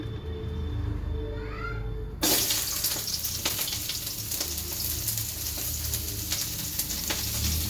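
Onion frying in a pan as a cooking step before capsicum, carrot and chilli are added: a quiet tap-like hiss gives way at about two seconds to a loud, steady sizzle that carries on to the end, with no talking.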